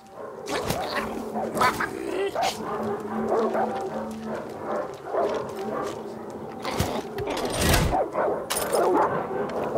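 Dogs barking and yipping in the Far Cry 6 video game on Xbox Series S, several sharp barks scattered across a busy in-game soundscape with music-like tones and faint talk underneath.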